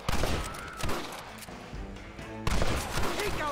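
Gunfire in Red Dead Redemption Remastered rings out as scattered sharp shots and short volleys, close and punchy, with quieter gaps between bursts.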